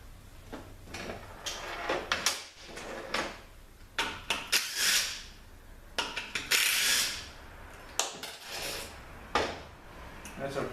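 Metal clatter from rummaging in a tool drawer for a socket during a 62TE transmission teardown: repeated rattling clanks, sliding and clinking tools in irregular bursts, close and fairly loud.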